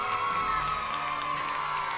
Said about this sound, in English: Hey, kids, how about a cheer for the Bible?